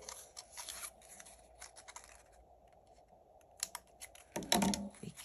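Small, close snips and scratchy clicks come from cutting parts of a Rolife DIY miniature flower-house kit, arriving in quick irregular clusters with quieter pauses between them.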